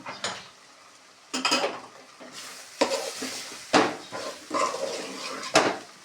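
Drumstick curry with chutney and flour is stirred in a pan: scattered scraping strokes and metal clinks of spoon on pot over a faint sizzle, nearby and without voices.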